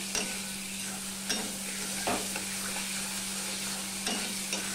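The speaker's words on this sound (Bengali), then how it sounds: "আলুটা ভাজতে ভাজতে পুরো নরম হয়ে যাচ্ছে" Potatoes fry in hot oil with spices in a pan, a continuous close sizzle broken by a few soft scrapes and taps of stirring, with no talk.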